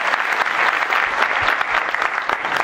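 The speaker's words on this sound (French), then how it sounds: "Ben bravo, on les applaudit, on a une petite coupe d'ingénieurs." A crowd applauds steadily and loudly throughout, dense clapping from many hands with no break.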